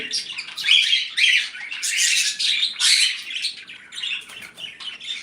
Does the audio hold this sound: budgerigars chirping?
yes